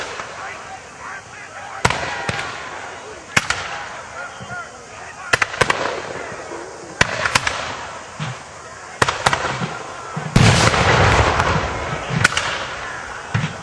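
British artillery fire at a Fort Erie siege re-enactment: a series of sharp, booming cannon reports spaced a second or two apart, ringing out at a distance over outdoor crowd ambience, with a denser cluster of blasts near the end.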